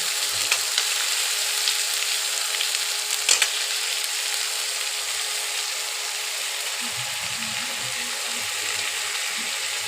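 Potatoes, pointed gourd and bori frying together in a pan, a steady close hiss of sizzling oil with soft stirring clatter and a brief scrape partway through, no talking.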